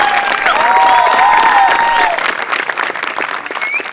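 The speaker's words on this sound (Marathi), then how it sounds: "टाळ्या सरांसाठी" Studio audience at a live Marathi comedy show breaks into loud, sustained applause with cheering, dense clapping filling the first two seconds then thinning slightly while a few voices call out over it.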